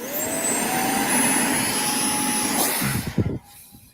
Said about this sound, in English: Formula One jet's flying.